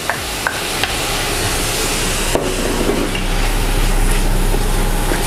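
Vegetables are stir-fried for pad see ew in a wok, with a steady sizzling bed, several sharp clinks and knocks of a utensil against the pan, and a swelling hiss near the end, close and without talk.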